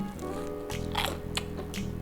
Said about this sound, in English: You're gonna hear the crunch, right?